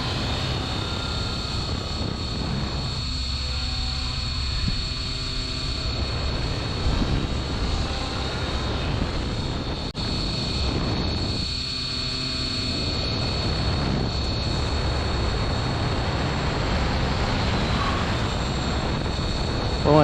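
RC helicopter flying with very docile settings and performing a tail whip, its steady rotor and motor whine droning continuously at close range, with brief swells and dips in pitch as it maneuvers.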